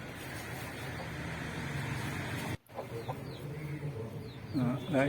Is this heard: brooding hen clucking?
yes